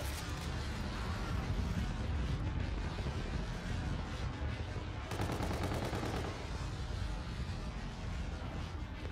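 Dense, continuous video-game gunfire in a match, with steady rapid shots and rattling bursts throughout, loud and close, a sharper automatic burst around the middle.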